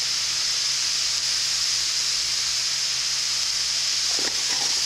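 Bell pepper and onion sizzle steadily in a hot pan for a sloppy joe filling, a loud, continuous hiss with no talking over it.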